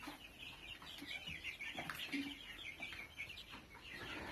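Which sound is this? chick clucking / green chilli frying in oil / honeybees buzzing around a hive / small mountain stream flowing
chick clucking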